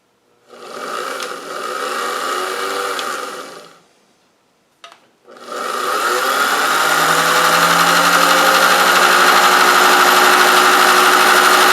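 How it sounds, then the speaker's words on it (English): A sewing machine winds thread onto a bobbin, its close, steady motor whir running for a few seconds, stopping briefly, then starting again and holding at an even pitch until the end. "now we're going to come in here and we're going to start filling the bobbin up"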